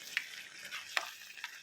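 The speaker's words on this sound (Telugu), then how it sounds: "జస్ట్ ఫ్లేవర్స్ మిక్స్ అవ్వడానికి వాటర్ యాడ్ చేస్తాను అంతే." Pav bhaji vegetables sizzle quietly in a pan after water is added, with three distinct spoon scrapes and clinks spaced through the soft steady hiss.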